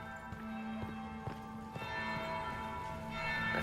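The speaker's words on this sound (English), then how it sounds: "That's the bell." A bell tolls repeatedly in Dragon Age: Inquisition, evenly spaced resonant strikes sounding a little distant over ambient game noise and faint footsteps.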